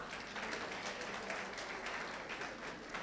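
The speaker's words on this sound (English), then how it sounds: "Please give them a huge round of applause." Audience applause at a Children's Day school celebration after a performance, a dense, even wash of clapping from a crowd, moderately distant and fairly soft, continuing throughout.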